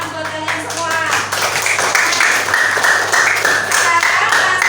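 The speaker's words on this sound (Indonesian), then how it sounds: "Tepuk tangan buat kalian semua" Classroom applause for student groups: a crowd of children clapping together in a rapid, steady patter, with voices mixed in under the clapping.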